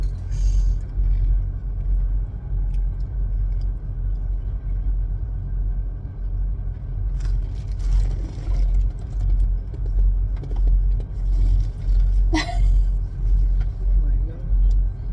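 A truck's engine rumbles steadily while it drives, a constant loud low drone across the whole stretch with occasional rattles and knocks, while people talk over it at times.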